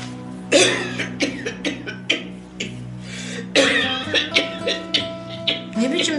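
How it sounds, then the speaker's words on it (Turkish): A person coughs repeatedly in uneven bursts, close and fairly loud, with short gaps between coughs and some throat clearing mixed in. "Böyle öksürük mü olur?"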